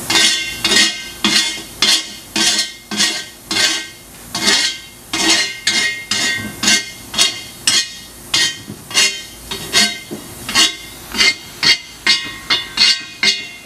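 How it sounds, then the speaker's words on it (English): A steel sleeve for a drift trike being deburred, with regular rasping strokes of a file or tool against cut metal, about two per second, close and loud, with no talk. "Now we're gonna deburr it, make sure it don't cut our tire or anything like that."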